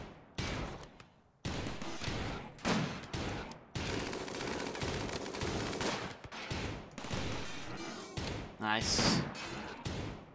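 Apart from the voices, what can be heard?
minigun fire from centipedes in video game RimWorld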